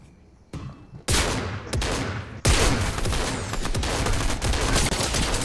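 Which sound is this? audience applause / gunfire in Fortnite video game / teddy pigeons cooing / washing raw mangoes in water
gunfire in Fortnite video game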